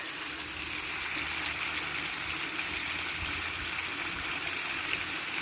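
A small man-made waterfall splashes outdoors in a steady, unbroken broadband rush of falling water, moderately loud and close, with no talk over it.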